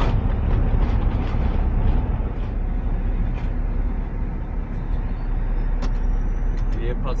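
Camper van rolling slowly over a rough, potholed road in rural Serbia, with a steady low rumble of engine and tyre noise and occasional faint rattles throughout.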